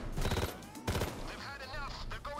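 A FAMAS assault rifle fires rapid bursts in the video game Payday 2, loud close gunfire in quick clustered volleys while someone talks over the shooting.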